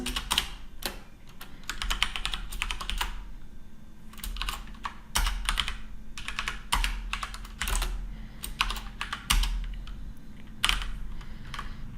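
Steady, rapid clicking of keys as code is typed on a computer keyboard, in continuous bursts with short pauses over a faint hum, close and clear with no talking.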